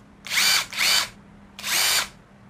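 A WORK WU132 12-volt impact driver spins freely at its top speed setting in three short, loud, high-pitched whirring bursts, the first two close together and the third after a brief pause.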